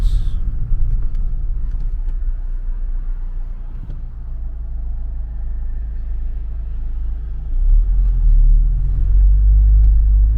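A car coming off a motorway in traffic, a steady low road rumble and engine drone heard from inside, swelling heavier toward the end as it accelerates.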